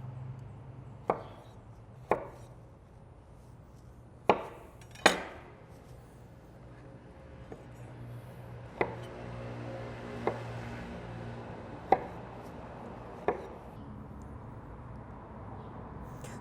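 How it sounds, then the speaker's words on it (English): A knife chops zucchini and squash on a cutting board: about eight sharp, separate thuds at an uneven pace, close and clear in a quiet kitchen. "And we'll be able to mix and match our zucchini with our squash. So we'll go ahead and get these cut up as well."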